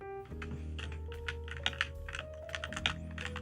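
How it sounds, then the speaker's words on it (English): Computer keyboard typing recorded close for ASMR, with a quick run of crisp, uneven key clicks over a steady low background hum, and no voice. "These are now some keyboard typies"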